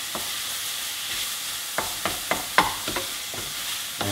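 Minced beef browning in a frying pan, a constant close sizzle broken by repeated sharp spatula scrapes and stirs in an irregular rhythm, with no voices.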